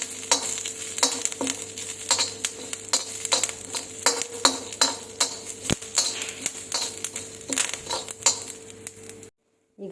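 Cumin seeds and curry leaves frying in a little oil, a dense crackling of rapid popping bursts with occasional metallic clinks of a spoon, close up and without speech, cutting off abruptly near the end.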